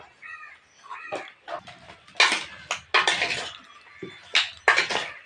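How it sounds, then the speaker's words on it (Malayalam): A spoon stirs turmeric powder into about a kilo of bone-in meat in a cooking pot, giving close, irregular scraping and clinking strokes against the metal, with brief louder knocks scattered through. "മഞ്ഞൾപ്പൊടി ഇട്ടത് ഇളക്കുവാണ്"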